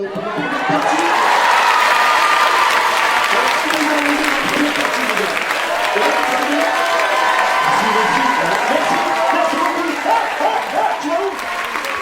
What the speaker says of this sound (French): Déjà, est-ce qu'on peut applaudir